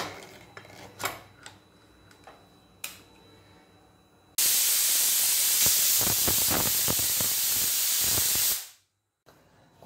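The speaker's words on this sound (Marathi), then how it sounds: "कुकरच्या शिट्ट्या या फुल गॅसवर 5 घ्यायच्या आहेत" A pressure cooker cooking mutton on full gas bursts into a loud, harsh steam hiss that lasts about four seconds and then cuts off abruptly, following a few faint kitchen clicks.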